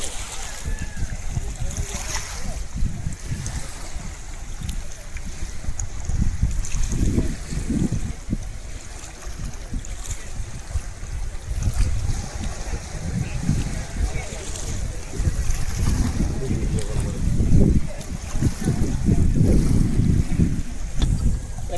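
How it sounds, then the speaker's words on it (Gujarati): The Banas river in flood after heavy rain and an overflowing dam upstream, running bank to bank: a loud, steady broadband rush of water throughout, with gusts of wind buffeting the microphone. "પાણીનો પ્રવાહ વધ્યો છે"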